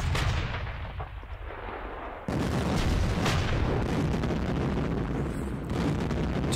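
Artillery barrages from the wargame Panzer Campaigns Kiev 43 rumble heavily and continuously, with layered booms and a sharp new wave of fire partway through.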